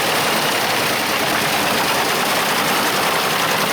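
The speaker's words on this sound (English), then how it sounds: "self-propelled drum chipper boasts an astonishing 380 cubic meters per hour output, powered by a 700 HP Volvo engine" Large 700 HP Volvo-engined self-propelled drum wood chipper running, a steady dense broadband engine roar with heavy low rumble, loud and constant throughout with no voices.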